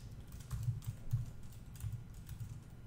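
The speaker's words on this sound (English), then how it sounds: "So let's go anywhere on the page, and we type the word img." Keys clack on a computer keyboard as HTML code is typed, a close, uneven patter of soft taps with a few heavier strokes and no talking.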